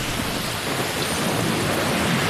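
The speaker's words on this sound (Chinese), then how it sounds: "上海今天总体是风大雨大的一天" Heavy typhoon downpour with thunder in Shanghai, a dense, steady roar of rain hammering surfaces with deep rumbling underneath, loud and continuous throughout, with no voices.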